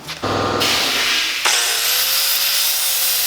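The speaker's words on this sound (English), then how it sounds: "The floppy paddle disc was still in my grinder, so I did it this way, my 4-inch angle grinder" A 4-inch angle grinder fitted with a flap disc whines at steady speed against metal, with a sharp rise in pitch partway through as it spins up. The noise is loud and continuous, with no voices.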